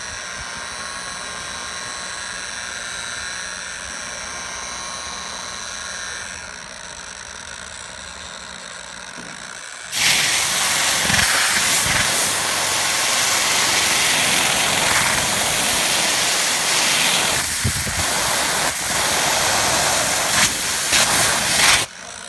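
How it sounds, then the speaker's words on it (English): Forced air from a steady tool-like whine switches to a loud, broad rushing hiss as it blows out a wool, microfiber or foam polishing pad, a continuous close blast for about twelve seconds, no talk. "you could just blow it out with forced air once again"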